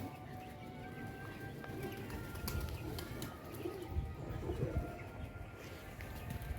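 Pigeons in a rooftop loft, soft low cooing repeated through a faint outdoor background with a few light taps and fluttering sounds, with no speech.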